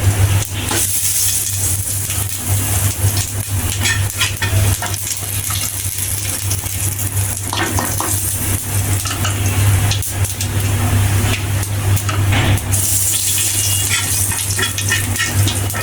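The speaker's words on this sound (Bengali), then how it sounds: "এই যে তেল গরম করেছি, এখানে একটু জিরা" Cumin seeds frying in hot oil give a continuous crackling sizzle close by, with scattered clinks and scrapes of utensils over a steady low hum.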